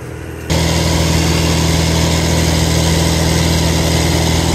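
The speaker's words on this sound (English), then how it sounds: "they get the auger hooked up and now they're gonna dig for the footing pads" A tractor-mounted auger running to dig footing-pad holes for a mobile home, its engine holding a loud, steady drone with a strong low hum after a sudden start, no voices.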